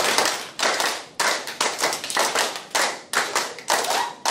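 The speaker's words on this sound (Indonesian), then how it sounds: "Tepuk 2. Tepuk 1. Tepuk 5. Oke. 3 kali tepuk 5." Audience of council members at a training workshop clapping hands together in counted bursts, groups of sharp claps repeated in a steady rhythm, loud and close with no talk over them.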